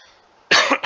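A single sharp, close cough breaks a moment of near silence, loud and abrupt, followed by a brief second burst.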